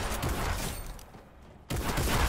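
Gunfire in the Fortnite video game during a Danish-language match, a dense burst of shots that drops away briefly, then resumes loud and sustained.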